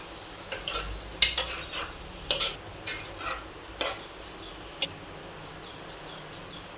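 A spoon stirs vaal bean curry in a pan, giving a series of separate scraping strokes and light clinks over a soft sizzle, close by.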